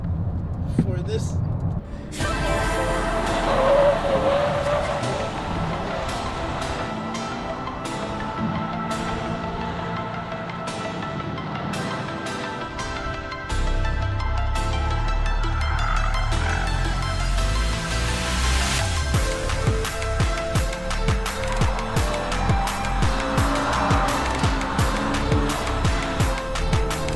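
Hyundai IONIQ 5 N electric performance car on hot laps around a track, tires squealing in long sustained howls over a steady loud drive sound, with people talking through it.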